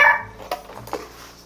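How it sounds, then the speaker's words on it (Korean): A small dog barks a few short yips close by in a quiet room during a makeup session, sharp brief bursts separated by pauses. "개드립 치지 말라고 번호가 옆에서 짖어서 바로 저를 자중시켜주네요"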